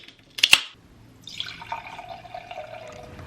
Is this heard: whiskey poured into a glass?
yes